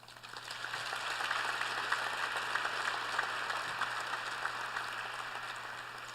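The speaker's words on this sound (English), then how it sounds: "You all deserve a round of applause." A room full of people applaud students at a brunch gathering, a sustained, fairly distant patter of clapping that swells in and holds steady without speech.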